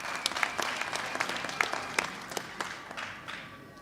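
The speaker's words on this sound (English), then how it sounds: "So let's give them a round of applause too." An audience claps at a Genocide Remembrance Day ceremony, moderately distant, with individual sharp claps standing out over a steady patter that tapers off near the end.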